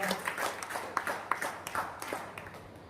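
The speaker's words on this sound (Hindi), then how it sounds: "उनके लिए एक बार जोरदार तालियां हो जाए" Scattered audience clapping at an indoor school gathering, a quiet patter of separate claps with no speech over it.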